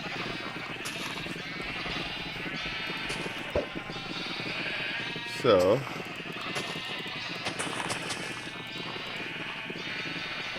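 Sheep bleating in the video game Minecraft, short wavering bleats rising once clearly near the middle beneath someone talking over steady background game sound.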